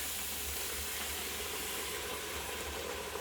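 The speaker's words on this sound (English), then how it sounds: "I love that hiss and sizzle." A soft continuous hiss and crackle of frying in a pan before chicken stock is added, steady and fairly quiet, with no voices.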